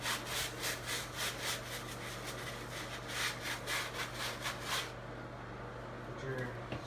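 A scrub brush works back and forth on the sole of a Jordan sneaker during a sole repair, giving rapid rhythmic bristly scraping strokes close by that stop near the five-second mark, leaving a low steady hum.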